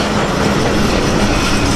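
The Mahananda Express train rumbles past close and loud, a continuous roar of wheels on rails with a faint metallic clatter throughout.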